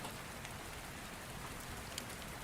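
Steady rain falling on a surface, a continuous even hiss with scattered drops throughout, no voices.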